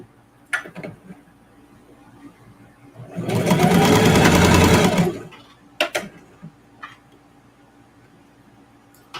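A sewing machine stitches through fabric scraps and denim for a quilt block in one steady, loud run of about two seconds, framed by a few sharp clicks and knocks before and after.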